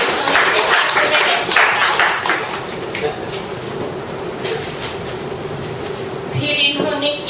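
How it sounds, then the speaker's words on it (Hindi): Sustained clapping from a large audience for a doctor at a talk, a dense steady wash of applause filling the whole stretch, with a swell near the end. "लेकिन ताली बजाइए इनके लिए"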